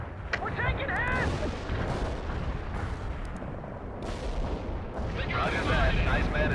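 Carpet bombing in the World in Conflict Soviet Assault campaign, a sustained dense rumble of explosions rolling on for several seconds, loud and continuous with overlapping blasts, while radio-style voices talk over it.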